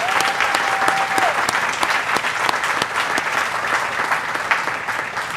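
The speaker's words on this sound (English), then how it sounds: "Could you just give him one more strong round of applause?" A crowd applauds steadily and loudly at a groundbreaking event for a Project Home building, sustained dense clapping with no break, joined briefly by a faint tone near the start.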